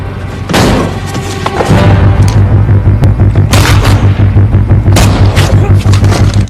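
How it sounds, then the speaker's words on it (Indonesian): Loud gunshots ring out in an action film scene: several sharp booming blasts a couple of seconds apart over a heavy, droning rumble. "Dengan cepat, Frank menembak balik pria itu."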